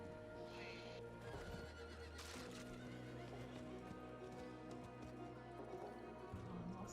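A horse whinnies loudly with a drawn-out neigh in Diablo 4, followed by the steady clip-clop of hooves over a low background drone.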